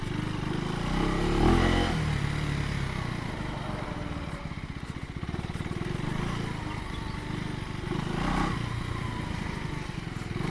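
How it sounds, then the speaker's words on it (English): Husqvarna Svartpilen 401 motorcycle (2024) riding off-road on a trail, its single-cylinder engine droning steadily with rising and falling revs and gravelly clatter throughout, fairly close, no talk. "Now let's take this little bit off-road,"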